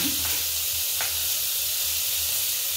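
Ridge gourd pieces cook in an open pressure cooker, making a steady, close hissing sizzle with faint crackles throughout. No one speaks over it.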